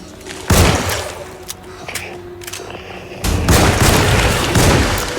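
Gunshots in the horror game Alone in the Dark, several loud booming blasts with sharp onsets, spaced unevenly across a few seconds, the last ones trailing into a longer roaring burst.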